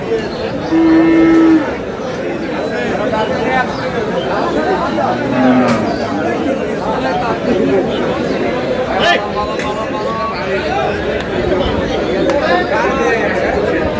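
Cattle moo repeatedly, low and drawn out, over a busy crowd of chattering voices at close range at a livestock market in Dinajpur, Bangladesh, selling dairy cows and calves.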